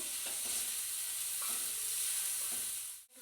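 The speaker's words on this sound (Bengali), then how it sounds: "ঢাকনাটা খুলে আমি একটু নাড়িয়ে নেব" Cabbage with potato frying in a pan, a steady faint hiss of sizzling with a few quiet stirring scrapes spaced about a second apart, cutting off abruptly near the end.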